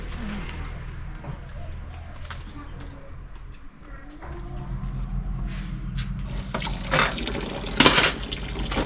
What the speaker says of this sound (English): After we cut the Pak Huat, we clean it, we wash it.